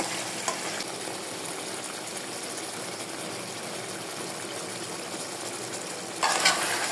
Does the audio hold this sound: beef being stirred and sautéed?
yes